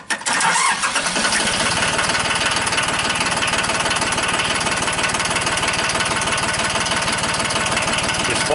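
A John Deere 1050 tractor engine fires up after a hydraulic pump replacement: a brief crank, then a loud, rough diesel idle with a fast, steady knocking rhythm close by.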